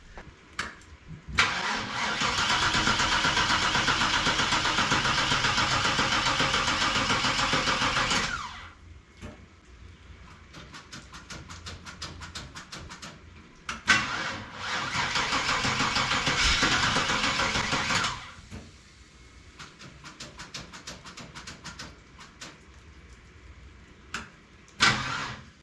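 An old RV engine cranks loudly with a grinding whir for several seconds in damp weather, pauses, cranks again, then sputters and catches into a rough idle.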